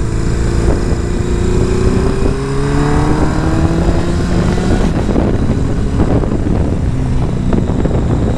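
A motorcycle engine drones loud and continuous while riding, its pitch rising and falling through gear changes, with heavy wind rush throughout.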